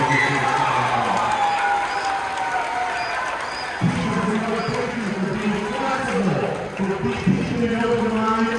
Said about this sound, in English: give another round of applause for our teachers for all the incredible work they put through